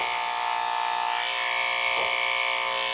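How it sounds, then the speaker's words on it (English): Electric dog clippers with a 10 blade buzz steadily while trimming a Shih Tzu, a close, loud, unbroken motor hum that dips slightly as the blade meets the coat. "And you use your corner, the corner of the blade, or you use a smaller clipper."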